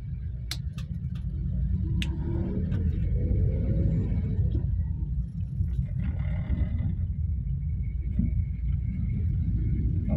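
A Toyota Avanza 2016 engine fitted with Blackcore tuning runs in third gear, giving a deep, steady rumbling drone that is loud and close, with faint ticks on top and no talking.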